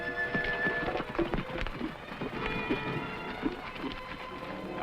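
Horses galloping in an old television western, rapid rhythmic hoofbeats drumming on the ground at a moderate distance, mixed with faint music and background noise, with no voices.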